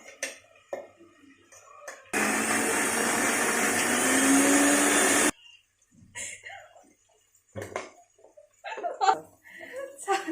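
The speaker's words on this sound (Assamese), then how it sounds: "এতিয়া মই এটা মিক্সি জাৰ লৈছোঁ জাৰত এইখিনি দি এটা পেষ্ট বনাই লওঁ" A mixer grinder jar grinding spice paste for a butter local chicken dish runs as one loud, steady whir for about three seconds, with quieter kitchen sounds and brief clatter before and after.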